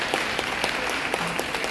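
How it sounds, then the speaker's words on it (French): Applause for a teacher at a graduation ceremony for a beauty and cosmetology school: dense, steady clapping from a sizeable crowd, loud and continuous, with a few individual claps standing out. "Sous vos applaudissements, s'il vous plaît."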